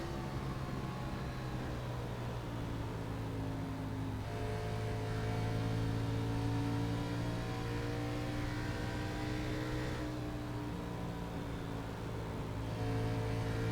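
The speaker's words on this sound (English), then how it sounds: "listen to what kind of throttle he's got going on" Race car engine in a NASCAR Xfinity Series video game at Indianapolis, a steady loud drone with smooth rising and falling throttle tones, continuous throughout with no talking.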